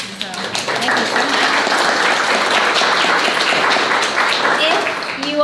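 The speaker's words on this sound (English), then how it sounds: "I want to give you a round of applause." Community crowd applauding the artists at an art exhibit's opening reception, a dense and steady wash of clapping throughout with voices mixed in.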